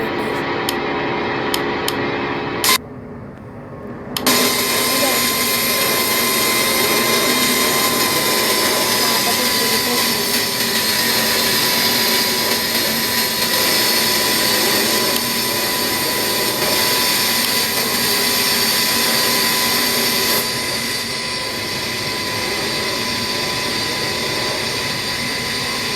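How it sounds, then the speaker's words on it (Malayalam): An airplane passes with a steady, loud, broadband roar that fills the whole stretch after a brief dip near the start, easing slightly toward the end. "കറക്റ്റ് റിയൽ ഫ്ലൈറ്റ് വരുന്നുണ്ട്."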